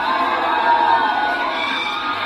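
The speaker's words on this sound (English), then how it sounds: "The crowd goes wild" A large crowd at the Kentucky Derby horse race cheering and yelling loudly, a continuous dense roar of many voices with whoops sustained throughout.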